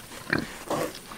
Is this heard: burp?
no